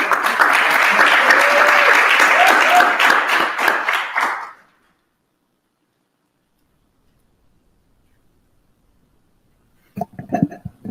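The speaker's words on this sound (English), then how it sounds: "how about a round of applause for Natasha?" Audience applause at a fire trainers and instructors conference session, a dense burst of clapping for about four seconds that cuts off into silence, followed by a brief faint shuffle near the end.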